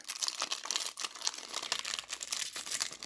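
A Magic: The Gathering Ixalan booster pack's foil wrapper is torn open, giving close, continuous crinkling and tearing crackle with no pauses.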